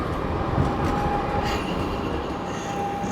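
An Istanbul tram pulls away from a station stop with a steady low rumble of wheels on rail and a faint high squeal, loud and close throughout.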